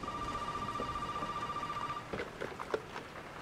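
Telephone ringing in the Resident Evil video game, a steady electronic ring tone sustained for about two seconds and then cut off, heard faintly under a noisy, murky ambient backdrop.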